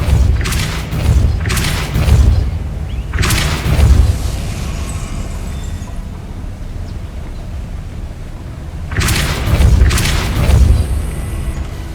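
The Depulso spell from the video game Hogwarts Legacy lands as loud booming thuds, several heavy bursts in two clusters separated by a quieter stretch, with no voices.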